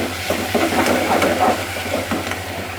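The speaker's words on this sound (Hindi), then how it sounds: "मैं इसमें ज़ीरा डाल के इसको मिक्स करूँगी और इसमें फिर मैं डाल दूँगी टमाटर डाल के इनको अच्छी तरह से मिक्स करेंगे।" Fried onions with cumin and tomatoes are stirred in a pan for aloo baingan bharta, with a steady sizzle and hiss under soft scraping and stirring noises, close and continuous over a low hum.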